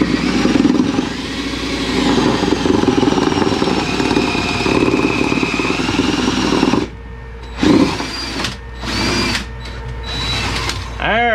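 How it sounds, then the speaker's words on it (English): A power drill whines steadily as it bores through a wooden joist in a crawl space for several seconds, then stops and restarts in short bursts, with a voice talking near the end. "When in doubt, drill another hole."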